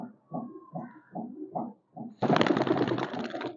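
Pigeons kept loose by a pigeon fancier coo in a series of about six soft, low, evenly spaced pulses close by, followed by a sudden loud rushing burst of broad noise.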